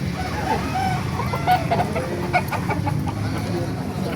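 Roosters and hens at a Bocaue chicken market cluck and squawk in short, scattered bursts over a steady crowd murmur, with voices talking faintly in the background.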